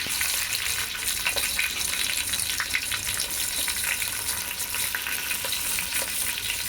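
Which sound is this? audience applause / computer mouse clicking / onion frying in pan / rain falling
onion frying in pan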